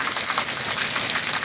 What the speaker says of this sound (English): So we're getting some water now, and we sure can use the rain